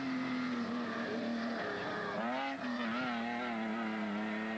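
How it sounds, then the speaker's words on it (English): A Castrol Toyota Hilux 4-litre rally truck races past during a desert rally event, its engine note rising and falling with a Doppler sweep as it nears and recedes, with tyre scrabble over the roar. "With another Castrol Toyota Hilux 4-litre zooming into view."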